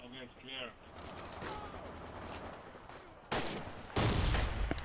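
Bursts of gunfire, including a captured MG34 machine gun, sound in a multiplayer battle in Forgotten Hope 2, starting faint and getting louder near the end, with brief voices heard early.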